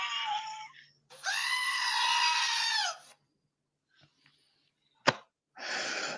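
A remote-controlled screaming sheep toy letting out loud, close bleating screams in two long bursts with a sharp click between them and a third burst at the end, no talk.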